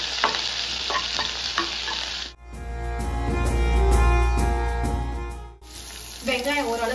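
Onions and green chilies sautéing in a pan, with a loud, close sizzle and a scraping stir that breaks into a deeper, rushing frying roar in the middle before the crackle returns.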